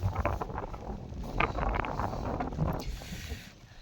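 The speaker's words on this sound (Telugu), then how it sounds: "వర్షం అయితే తగ్గింది చల్లటి గాలి వస్తుంది" Cold wind blows across an open rural grazing area after rain, a continuous rushing gust buffeting the microphone, fairly soft and steady.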